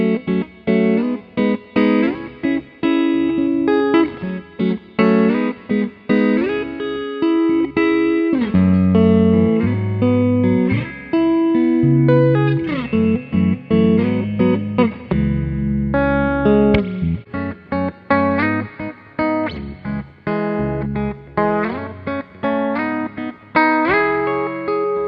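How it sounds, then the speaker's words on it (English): A baritone guitar plays rhythm parts through a Fender Blues Deluxe amp, a loud, continuous run of chords and low riffs with sustained notes and a few brief gaps, with no voice over it. "cycle through a couple of those rhythm tracks so you can hear them in an isolated fashion"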